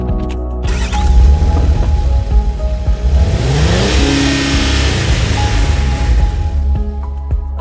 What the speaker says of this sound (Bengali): বাইকে ওঠে, বাইক চলতে শুরু করে